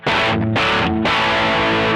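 An electric guitar runs through the fat distortion setting of a Boss OD200, a Rat-style tone with spring reverb: three thick, saturated chord strikes in quick succession, each cut by a brief gap, loud and up front.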